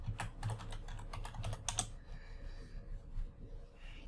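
Quick bursts of keystrokes on a computer keyboard while logging in as administrator on a Windows Server 2016 machine, clustered clicks in the first two seconds, then a quieter hum with only faint room noise.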